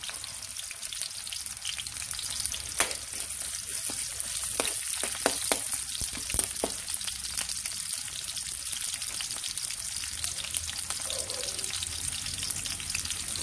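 Onion and garlic fry in a pan for pansit canton, a steady close crackling sizzle with scattered pops and light stirring clinks, and no talk.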